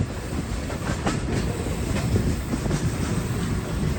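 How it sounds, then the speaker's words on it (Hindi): Bahauddin Zakariya Express rolling through the streets of Nawabshah at night, a steady loud rumble of wheels on rails with rhythmic clickety-clack over track joints, continuous and close. "ट्रेन जो है हमारी वो नवाबशाह शहर में एंटर हो चुकी है।"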